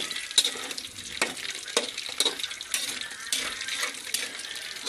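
Lumpiang Shanghai spring rolls frying in oil: a soft, steady bubbling hiss with scattered pops and crackles, at moderate level, with no talk.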